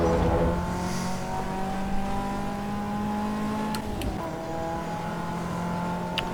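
A race car engine drones steadily in the Assetto Corsa EVO racing game, its pitch sliding slightly as the car runs through corners, with a few sharp clicks near the end.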